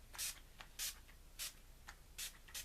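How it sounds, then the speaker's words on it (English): Urban Decay All Nighter setting spray mists out in short, bright hissing bursts, about five quick pumps with pauses between, close and clear with no talking. "I will finish off with another sport of Urban Decay's All Nighter."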